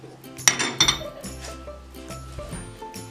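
Spices are stirred together in a bowl with a spoon, producing a few sharp clinks of metal on the bowl followed by softer scraping and tapping, close up, over a faint steady background tone and no speech.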